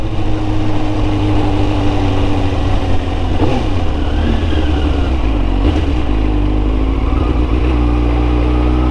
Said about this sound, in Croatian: on stvarno zahtijeva da ga se vozi u visoke okretaje kako bi mogli dobiti zapravo puni potencijal ovoga motora